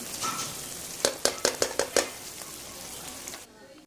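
Black-eyed peas (lobia) frying in oil, a steady sizzle broken by a quick run of about six spatula clinks against the pan, close and clear.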